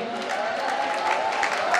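Audience applause for Ustadz Dendi at a National Waste Awareness Day gathering, dense clapping with a few cheers and a voice talking beneath it.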